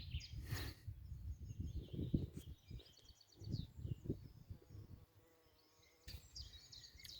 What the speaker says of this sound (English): The honeybees are very, very active.